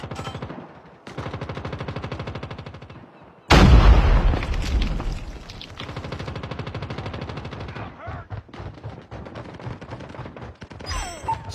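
Rapid automatic gunfire from the mobile game Call of Duty Mobile rattles in long bursts, interrupted by a loud booming blast and followed by more scattered shots and impacts, all loud and close.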